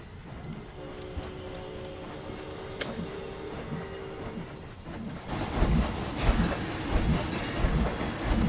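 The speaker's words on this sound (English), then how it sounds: "Ride the train a little bit." Train ride in the video game Planet Coaster: steady rolling rumble with rhythmic clickety-clack and faint ticks, growing louder and rougher toward the end, with no talking.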